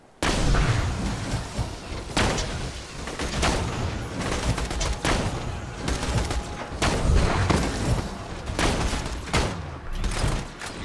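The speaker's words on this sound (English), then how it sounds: "now we're going to switch to the sniper rifle, the Chère-amie" A Chère-amie sniper rifle fires in the video game Borderlands 2, its loud sharp shots cracking at irregular intervals over dense, continuous battle noise, with no talking.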